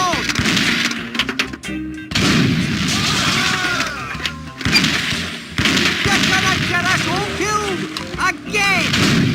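Gunfire and booming cannon shots from The Curse of Monkey Island, a PC adventure game, crack repeatedly in dense bursts. Brief pauses break the barrage, and game voices can be heard over it.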